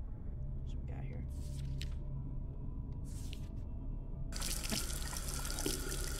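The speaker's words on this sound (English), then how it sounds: "is somebody taking a shower?" Shower water in a horror game switches on partway through as a loud, steady hiss of spray, following a quieter stretch with soft drips and faint background hum.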